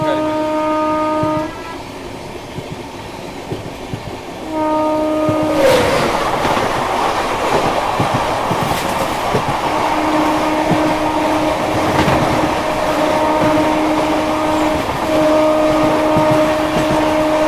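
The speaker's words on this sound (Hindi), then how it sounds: "कालका नेताजी एक्सप्रेस से अपनी क्रॉसिंग होने वाली है अभी" Indian express train on the move and crossing the Kalka Netaji Express, heard from on board: steady rumble with a loud rush of the passing train from about six seconds, and sustained horn tones before and after.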